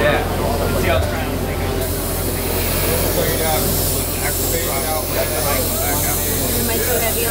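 Airbrush spraying paint in a workshop lesson, a steady hiss continuing throughout under a constant low hum and some nearby talking.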